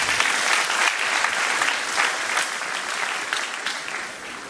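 Sustained applause from a large audience at an air force cadet swearing-in ceremony, dense and steady throughout, easing slightly toward the end.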